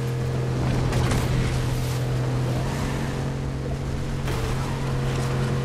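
A vehicle driven in the Fortnite video game gives a steady droning engine hum with a constant low tone and a wash of wind-like noise, loud and unbroken throughout.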